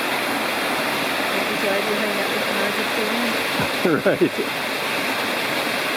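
Margarette Falls in Cherokee National Forest pours in a steady, broadband rush of falling water, with a brief spoken word and some handling noise over it.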